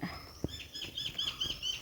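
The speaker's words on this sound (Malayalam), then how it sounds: "വൈകുന്നേരം ആയപ്പോൾ പക്ഷികളൊക്കെ ചേക്കേറാനായിട്ട് തുടങ്ങുകയാണ്" Faint calls of birds going to roost in the evening repeat in quick succession against a quiet outdoor background, with one soft thump early on.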